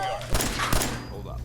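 Gunfire in the Fallout 4 video game during a fight with gunners inside Greentech Genetics, with a few sharp thumping shots under a mid-level background mix.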